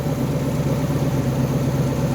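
Small-block Chevy V8 in a 1957 Chevrolet, revived after four decades of sitting, idling with a steady, even rumble up close.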